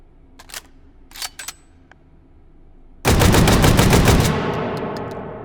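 An AA-12 magazine-fed shotgun fires in the shooting game H3VR. Quiet handling clicks come first, then a loud sustained burst of rapid full-auto blasts that runs on for a couple of seconds and trails into reverberation.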